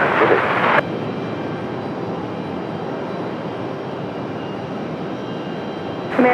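Delta airliner taking off from Raleigh-Durham airport, a steady loud engine roar that holds for several seconds, with brief louder bursts at the start and end.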